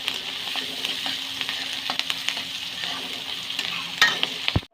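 Onions fry with ginger and garlic for a mutton curry, a close, busy sizzle with repeated scraping stirs and a louder clatter near the end before it cuts off.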